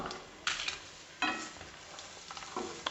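Eggs cooking in spicy masala in a pan, a quiet sizzle with a few distinct scraping stirs of a spatula against the pan.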